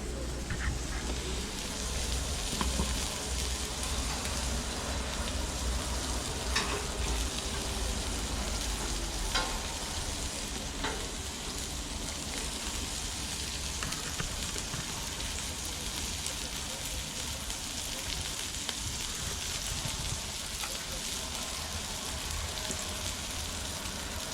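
Food sizzling steadily on a Florabest electric grill from Lidl out on a cold balcony in Germany, a dense continuous frying crackle with occasional sharper pops, close and unbroken throughout.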